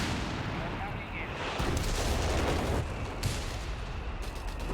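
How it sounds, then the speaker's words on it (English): Howitzer artillery fires in a Company of Heroes 3 battle, heavy booming blasts and rumble layered over dense continuous battle noise, with several sharper reports standing out. "Dropping some base howitzers across the gap with the dingo, it looks like."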